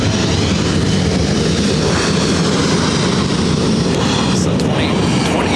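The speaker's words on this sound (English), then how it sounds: "Delta Connection, SkyWest Flight 4067 heading to Sacramento on E175" A SkyWest Embraer E175 jet at LAX roars loud and steady, a dense broadband engine rumble filling the whole stretch without letup.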